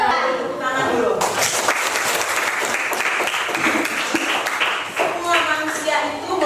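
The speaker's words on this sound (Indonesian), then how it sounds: "Tepuk tangan dulu." Classroom audience bursts into loud, steady clapping during a school lesson, the applause rising sharply after a spoken line and continuing for several seconds, with voices heard at the start and end.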